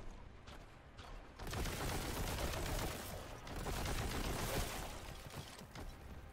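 Rapid, sustained boltgun fire from the Warhammer 40,000: Boltgun video game, a dense fusillade of loud, overlapping shots that starts after a quieter moment and keeps going near-continuously with a brief dip midway.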